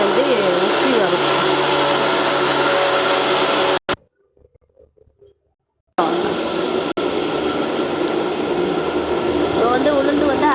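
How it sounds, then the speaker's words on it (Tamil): A wet grinder churns soaked urad dal into idli batter with a steady, loud motor whir. The whir cuts out into near silence for about two seconds, then resumes at the same level. "இப்போ வந்து உளுந்து வந்து அரைக்கிது"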